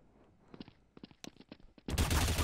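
Gunfire in a Counter-Strike-style Minecraft video game: a run of quiet, sharp shots followed by a louder burst of noisy blasts at the end.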